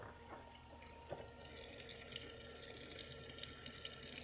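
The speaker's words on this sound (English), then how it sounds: "There's your water coming in." Water rushing into a brand-new portable washing machine as it fills, a steady faint hiss and trickle with no talking.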